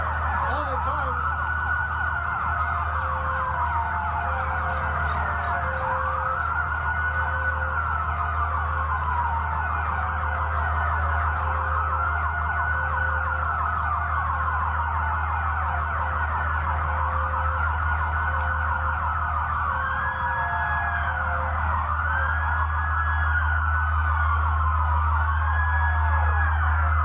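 Emergency vehicle sirens wail continuously through a street riot, several overlapping rising and falling tones holding steady at a loud, near level over a low rumble for the whole stretch.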